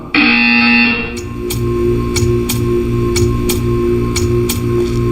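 A loud electronic buzzer in the video game Portal 2 sounds for about a second, followed by a steady ticking pulse with evenly spaced clicks under a droning tone.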